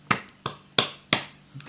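Five separate hand claps, sharp and close, spaced roughly a third of a second apart with the last one softer.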